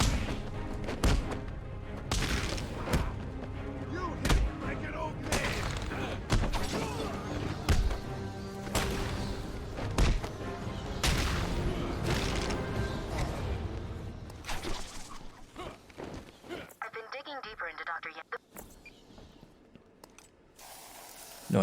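Guns firing sticky black tar globules in Batman: Arkham Asylum, heard as repeated punchy blasts and thuds over a busy game soundscape. The blasts thin out toward the end, where a brief warbling tone stands out.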